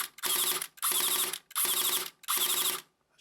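A Tokyo Marui MP7 airsoft electric gun fires four rapid full-auto bursts, each a dense mechanical buzz of about half a second with brief gaps between, loud and close with no talking.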